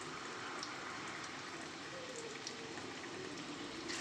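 Bottle gourd peel fritters frying in hot oil until deep red, giving a steady, dense sizzle and crackle that runs unbroken throughout at close range, with no voices over it.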